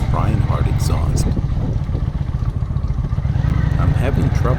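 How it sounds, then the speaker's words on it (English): A Kawasaki Vulcan 900 motorcycle with its stock, unmodified exhaust runs with a low, steady, fairly quiet engine drone, heard close up while riding, with wind rumble and no talking. "The first thing I noticed is the exhaust on the Vulcan."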